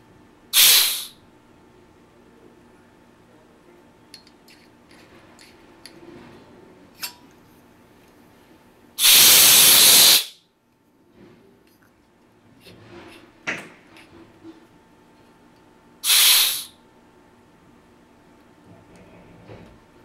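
Short bursts of compressed air hiss through a RAP4 inline on/off air adapter valve, three sharp blasts with the middle one longest and loudest, separated by quiet clicks and handling noises.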